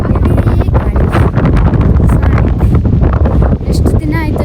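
Loud gusty wind across a farm field in a village, heavy rumbling buffeting on the microphone throughout, with a person talking over it at close range.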